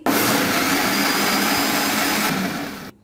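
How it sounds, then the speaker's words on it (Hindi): A blender whirs continuously as it blends a mango milkshake with ice, a loud, steady grinding roar that dips briefly near the end and then cuts off abruptly. "अब मैं इसको दोबारा से ब्लेंड करूंगी।"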